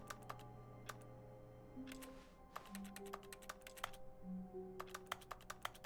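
Keyboard typing in The Stanley Parable game, a series of crisp clicky keystrokes in uneven bursts, fairly clear and close, with soft tonal game sounds in the background.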